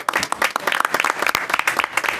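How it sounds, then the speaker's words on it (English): An audience at a school board meeting applauds a student track champion with a dense, steady burst of many hands clapping, close and fairly loud, with no voices over it. "You can applaud."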